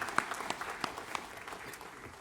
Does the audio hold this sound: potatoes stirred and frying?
no